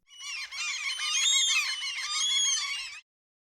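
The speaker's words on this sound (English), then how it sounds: "Farther down the beach, a seagull cries out." A seagull on a beach gives a single sustained, shrill squawking cry lasting about three seconds, loud and close, with no other sounds around it.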